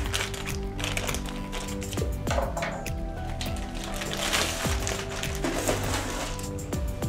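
Plastic bags around printer toner cartridges for an OKI920WT color printer are cut open and handled, with steady crinkling, rustling and small snipping clicks up close, no talking.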